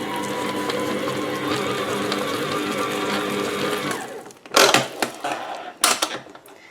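An electric mixer runs steadily on banana cake batter for a few seconds, a continuous whirring hum that stops, followed by a couple of loud knocks as it is set down.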